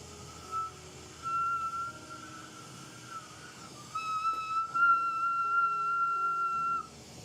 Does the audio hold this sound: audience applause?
no